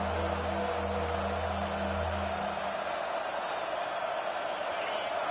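A football stadium crowd roars steadily for the defense on third down, a loud continuous wash of cheering with a low hum fading in the first half.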